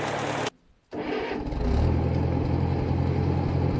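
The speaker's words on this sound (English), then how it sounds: "the gas engine always started without hesitation" Gasoline engine on a W4 log tractor cranks briefly, pauses, then catches and settles into a steady, loud running rumble close by, with no talk over it.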